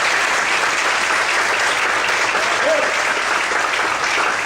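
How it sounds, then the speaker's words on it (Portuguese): Church congregation at a worship service claps loudly and steadily in a dense, continuous roar of applause, with a faint voice briefly rising above it. "Desocupa a sua mão, aplaude o Senhor bem forte para o dia."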